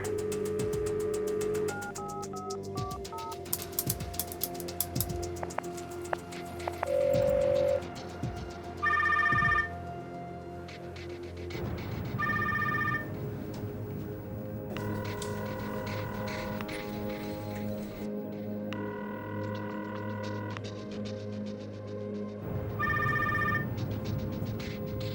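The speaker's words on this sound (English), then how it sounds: "Firefly's making a call from the phone box at the top of Duke Street Hill." A call placed from a public phone box at the top of a hill: a sequence of dialing beeps and repeated ringing tones with quiet pauses between, fairly faint and with no talk.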